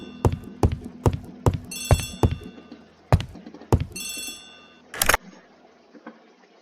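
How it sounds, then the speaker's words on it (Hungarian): An old-fashioned telephone bell in The ABC Murders video game rings in a series of sharp metallic bursts, repeated several times in a quick uneven rhythm, then a short louder ring before falling quiet. "Telefon."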